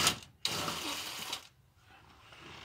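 A ratchet wrench turns a 6-point socket on a lock cylinder of an S10, giving close, bright rasping bursts of clicks, then a pause and faint softer mechanical noise.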